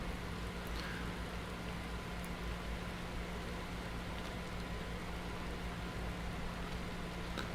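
Steady rain falling in Skyrim, a continuous soft hiss of drops with a low rumble underneath, even and unbroken throughout with no one speaking.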